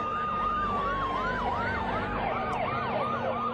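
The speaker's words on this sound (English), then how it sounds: "All you hear are sirens" Wailing emergency vehicle sirens race toward the World Trade Center in New York during the attacks, several overlapping whoops and yelps at once, loud and close over a low traffic rumble, with no talking.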